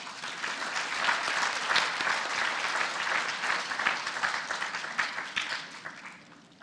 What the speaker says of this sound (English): Please give our seniors a round of applause.